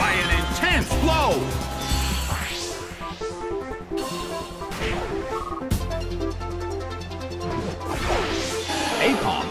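A Hydro Pump attack slams into Swampert in a Pokémon video game: a loud crashing impact with whooshing water sweeps over busy game music, the hit landing heavily near the start and again midway.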